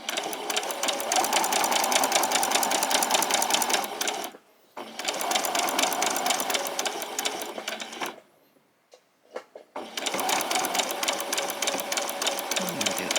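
Sewing machine stitching a back stitch on an apron, loud steady whirring runs in three bursts separated by short pauses, with brief faint clicks in the gap.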